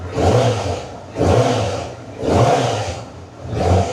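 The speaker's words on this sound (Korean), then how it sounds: "엔진 RPM을 살짝 올려보겠습니다." Honda CB1000F motorcycle engine revving up and easing off in four repeated surges, loud and close, with a rough pulsing tone and no speech.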